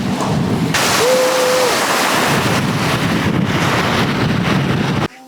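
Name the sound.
waves at the fjord shore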